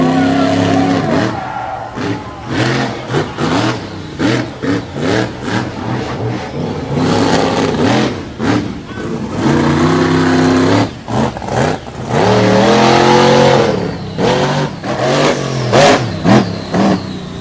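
Racing truck engines rev and roar near a dirt track at the Vanderburg 4-H Fairgrounds in Evansville, rising and falling repeatedly, with bursts of acceleration, loud and close throughout, mixed with a voice.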